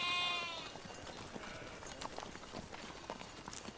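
Goats from a scattered herd bleat in short, overlapping calls, several animals at varying distance, with a brief high-pitched cry at the start and scuffling hooves and movement throughout.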